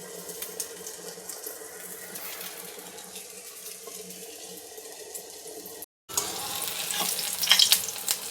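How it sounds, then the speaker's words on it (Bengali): Round eggplant slices fry one by one in hot oil, making a continuous crackling sizzle that breaks off for a moment and then returns louder and brighter. "এইভাবে এক এক করে সব বেগুনগুলো ভেজে দিই।"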